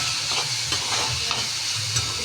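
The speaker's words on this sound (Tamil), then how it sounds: "ஸ்டீம் பண்ண சவு சவையும் போட்டுட்டோம் போட்டு நல்லா கலந்துடலாம்" Chayote (chow chow) sizzles steadily in a hot pan while being stirred, with faint scraping and clinks over a constant frying hiss.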